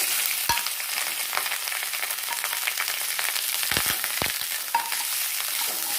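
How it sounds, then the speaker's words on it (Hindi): Cumin seeds and rice fry in ghee in a pan, giving a continuous close crackling sizzle with a few sharp knocks and scrapes of stirring. "इसे 2 से 3 मिनट के लिए एकदम भून करके तैयार कर लेंगे"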